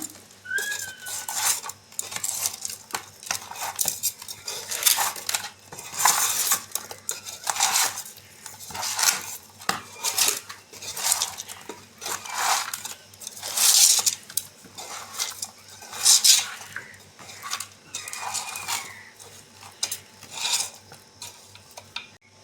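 A spoon scrapes and clinks against a metal pot while fish curry is stirred with salt and chili powder, in repeated bursts of scraping and rubbing close by with no talk.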